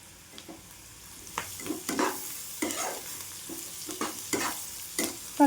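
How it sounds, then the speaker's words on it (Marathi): Leftover rice being sautéed with salt in a pan for soya pulao, with a low sizzle and repeated scraping stirs of a spatula against the pan at an irregular pace, close and clear with no talking. "थोडं मीठ टाकून घेते चवीनुसार आणि छान आपण परतून घेऊया."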